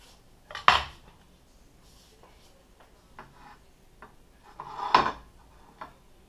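Cutlery scrapes through an omelette to clink against a plate, two sharp metallic knocks a few seconds apart with softer taps between, close and otherwise quiet.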